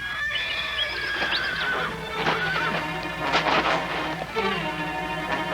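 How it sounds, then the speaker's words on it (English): Three shod horses approaching in a wooded frontier setting, with loud repeated neighing and whinnying over a steady clatter of hooves, close and without talk. "Horses approach. 2. No, 3. They are not Indian horses. They are shod."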